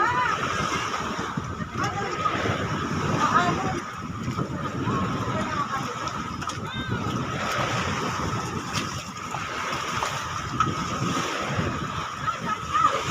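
Sea waves washing and sloshing steadily around a boat during a ride, a constant rushing wash with engine hum beneath, and people talking nearby.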